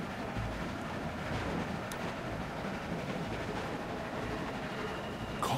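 Train running on rails, a steady low rumble and rolling noise with faint rhythmic clatter throughout, continuous and moderately distant, no voices.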